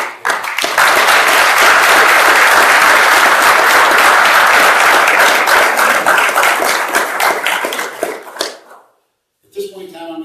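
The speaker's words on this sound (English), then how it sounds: "a big round of applause." Sustained, loud applause from an audience at an awards presentation fills the room for about eight seconds, dense clapping close and steady, then cuts off abruptly before a quiet moment and a brief stir.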